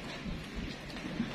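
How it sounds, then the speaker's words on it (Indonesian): Rain falls steadily on a garden in the late afternoon, a soft continuous wash of patter with a low rumbling undertone, heard alone. "Hujan guys."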